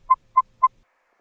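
Three short, evenly spaced electronic blips in quick succession, clean and mid-pitched, the brief arcade-style hug pickup sound from the game A Reckless Disregard for Gravity.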